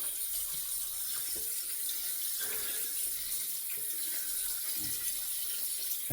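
Water runs steadily from a tap while a safety razor is rinsed under it, a soft continuous splashing stream with faint clinks, quiet and close, with no voices.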